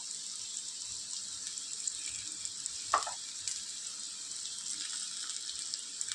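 Fried aubergine and potato pieces sizzle in a pan with spices just added. A soft, even frying hiss runs throughout, broken once near the middle by a single sharp utensil knock.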